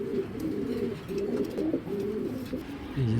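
Silver pigeons in a loft or market pen coo in repeated low, throaty rolls, several calls overlapping close by and fairly loud, with soft background noise and no talk.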